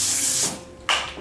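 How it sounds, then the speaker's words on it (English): Cooking spray hisses onto aluminum foil in two short bursts, the first longer and the second quick, close and fairly loud. "I'm gonna spray my foil here so my cheese doesn't stick to it too bad"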